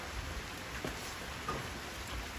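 Rain falling during the rainy season, a steady faint hiss of drops with a few soft patters, even and continuous, with no voices.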